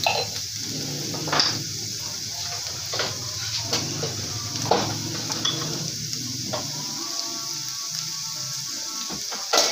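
Cumin seeds sizzle and crackle steadily in hot oil in a pan, a continuous frying hiss broken by occasional light clinks of stirring.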